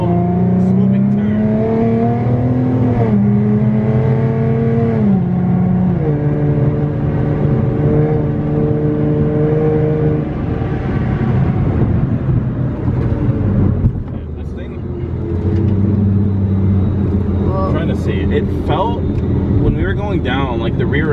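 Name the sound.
supercharged V6 car driven spiritedly through a turn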